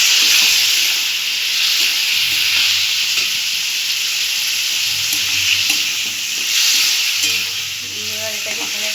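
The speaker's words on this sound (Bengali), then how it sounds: "এবার একটু সামান্য জল দিলাম" Water poured into a pan of frying spice masala with pointed gourd (potol), potatoes and prawns makes a loud, steady hiss and sizzle, with faint stirring clinks underneath and no talking.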